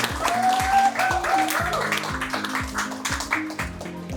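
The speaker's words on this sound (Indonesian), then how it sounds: "Kita beri aplaus kepada kelompok saudara ini" An audience gives applause to a presenting group at a process control and piping instrumentation workshop lecture, a soft patter of clapping hands over a repeating musical sting, with no voices clearly rising above it.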